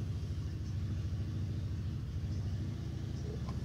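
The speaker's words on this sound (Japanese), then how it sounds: "久々にエンジンかかったな、おい。" A car engine, fitted with an OS twin-plate pull-type clutch, idles and runs after a restart, a steady low rumble at moderate distance with no voices over it.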